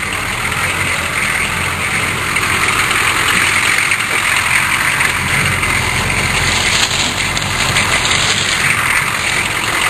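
Chevrolet K5 Blazer engine idling steadily after sitting unused for three months, a loud, even, continuous rumble with a broad hiss, no voices over it.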